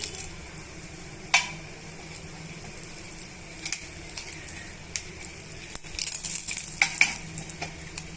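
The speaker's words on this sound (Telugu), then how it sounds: "హాఫ్ టేబుల్ స్పూన్ ఆవాలు హాఫ్ టేబుల్ స్పూన్ జీలకర్ర వన్ టేబుల్ స్పూన్ పచ్చిశనగపప్పు రెండు ఎండుమిర్చి యాడ్ చేస్తున్నానండి" Mustard seeds, cumin, chana dal and dry red chillies sizzle in a pan with a continuous crackling hiss, punctuated by close, clinking stirring strokes that grow busier toward the end.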